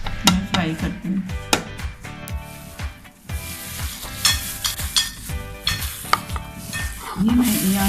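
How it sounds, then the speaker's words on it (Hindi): Marinated chicken wings frying in oil for crispy fried wings, with a steady sizzle under repeated scraping and stirring knocks from a utensil against the pan, close and fairly loud throughout. "तो ये मिक्स हो गया, मैं फ्राई करती हूँ।"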